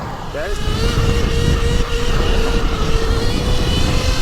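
An electric bike motor throttles on its own, holding a steady, loud whine over a heavy rumble of wind and road noise, with excited voices heard over it.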